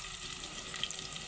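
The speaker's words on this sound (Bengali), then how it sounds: "পেঁয়াজটাকে একটু লাল লাল করে ভেজে নেব। এবার আদা রসুনের পেস্ট দিয়ে দেব।" Onions and ginger-garlic paste frying in oil for a pumpkin, Malabar spinach and prawn dish, a brief faint, even sizzle without talking.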